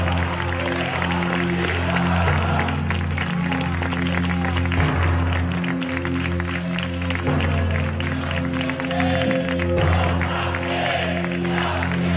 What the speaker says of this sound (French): Applaudis par la foule